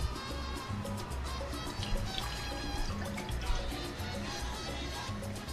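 A cup of water poured into a medium pot for churros dough, a quiet continuous trickle and splash heard close by.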